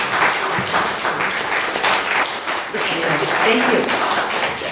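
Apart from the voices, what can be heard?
applause for temple volunteers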